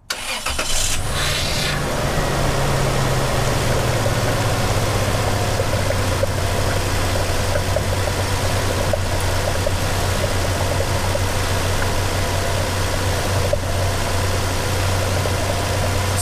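A car engine cranks and starts, then idles steadily and fairly loud with no talk during a power steering flush, the steering wheel left untouched.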